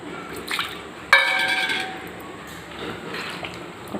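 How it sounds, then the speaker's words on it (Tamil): Water poured into a gram flour batter cooking in a pan, a splashing, trickling pour with a clear burst in the middle of the clip and softer liquid sounds before and after, close by. "இன்னும் கொஞ்சம் தண்ணி ஊற்றிக்கலாம்."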